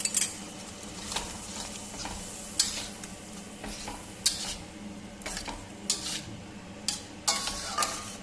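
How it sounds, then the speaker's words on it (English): Masala with tomato paste frying in hot oil for a Bengali prawn curry, a steady low sizzle punctuated by repeated scraping stirs of a spoon against the pan, close and clear with no voices. "Now I have to fry the masalas very well till the oil separates from the masala."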